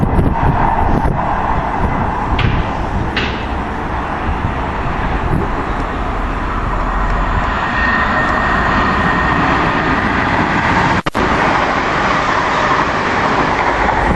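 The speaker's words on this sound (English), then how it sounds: "got a London Midland unit heading south to London Euston" London Midland passenger unit heading south toward London Euston roars past nearby in a loud, sustained rush of wheel and engine noise that fills the whole stretch.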